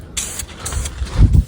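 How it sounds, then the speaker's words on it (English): Short bursts of hissing spray from an aerosol spray paint can onto minibike fenders, two quick blasts, followed by a low rumbling knock. "We're spraying this up another layer, the third layer"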